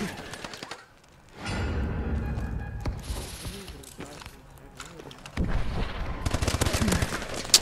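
Rapid gunfire in the video game Call of Duty: Advanced Warfare, bursts of close automatic shots separated by a short lull, with a player talking over the action.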